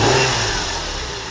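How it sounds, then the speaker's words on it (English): A Lexus IS300 engine fitted with a K&N cold air intake revs briefly, a steady mid-pitched roar slowly easing down, close by with no talking. "I might give it a few little revs"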